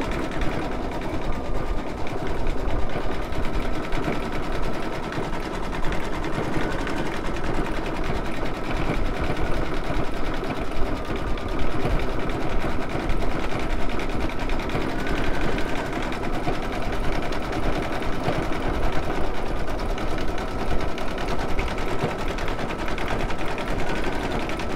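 Embroidery machine stitching a decorative edging around a circle, a rapid continuous mechanical chatter of the needle running steadily at close range for the whole stretch, with no voices.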